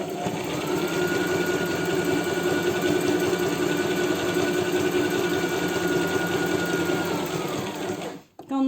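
A sewing machine stitches steadily through cushion-cover fabric, a loud, close, continuous mechanical whir that holds for several seconds before briefly stopping near the end.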